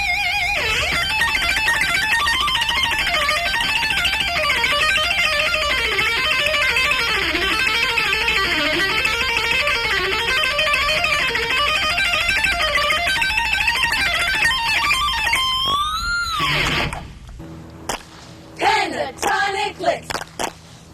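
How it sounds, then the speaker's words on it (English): A distorted electric guitar on the treble pickup plays fast, dense rock licks at a loud, sustained level, then breaks into a few short bends and stabs before stopping. "Let me try out with a little more distortion and the treble pickup to get that mean sound."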